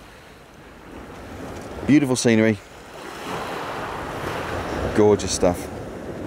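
Sea waves wash onto Eastbourne beach under steady wind noise, a continuous broad rush, while someone speaks briefly twice over it.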